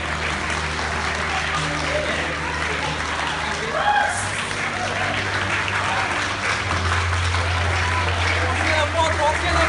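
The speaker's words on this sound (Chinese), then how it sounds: "来，掌声，你尖叫声在哪里" Wedding banquet guests applaud and cheer in a sustained, dense wash of clapping, loud and continuous throughout, while an emcee's voice carries over the crowd.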